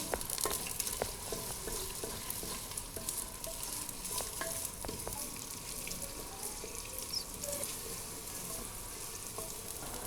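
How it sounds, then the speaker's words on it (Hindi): Onions fried in a clay pot for potato keema curry, giving a constant bright sizzle with frequent small spatula scrapes and taps, close and moderately quiet throughout, no voices. "प्याज को हम गोल्डन ब्राउन करेंगे।"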